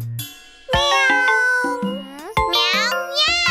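In an Indonesian-language children's song, a bright singing voice imitates a cat with a string of melodic, drawn-out meows over a cheerful musical backing.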